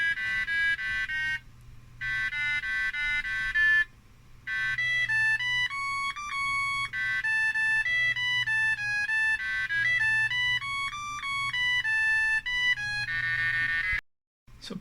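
A 1991 Sanyo MBC-18NB laptop plays an MS-DOS recreation of Portal 1's ending song as shrill, beeping square-wave melody lines with brief breaks, loud and alone.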